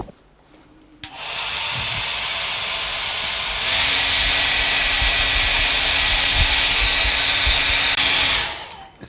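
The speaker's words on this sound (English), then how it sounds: "So let's put the hairdryer on that." A hairdryer drying watercolour paint on a fruit still life switches on with a click and blows a loud, steady whooshing hiss, stepping up to a stronger setting partway through before cutting off near the end.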